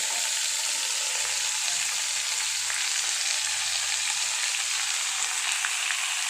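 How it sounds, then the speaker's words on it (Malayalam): Cabbage with curry leaves frying in a pan, giving a steady, fairly quiet hiss and sizzle throughout, with no talk. "നമ്മൾ എടുത്തു വെച്ചിരിക്കുന്ന ക്യാബേജ് ഇതിലേക്ക് ഇട്ട് കൊടുക്കുക"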